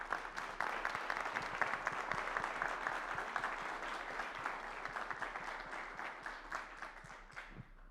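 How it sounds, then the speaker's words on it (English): Sustained audience applause from a crowd at a Maryland student summit, dense steady clapping close and loud that continues for several seconds and tapers slightly at the end. "So round of applause to her real quick."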